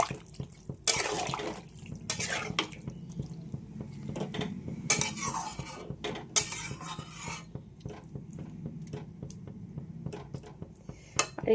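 Water is poured into a cooking pot and stirred, with scraping and clinking of a utensil against the pot and splashing, close and fairly busy throughout.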